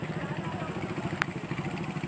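Motorcycles passing on a road, a steady low engine rumble with rhythmic pulsing, moderately distant and fairly quiet.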